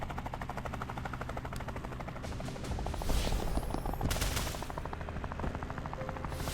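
Rapid repeated gunshots in Tactical Breach Wizards, a dense crackling volley of game gunfire with a louder burst midway, continuous and fairly close with no talking over it.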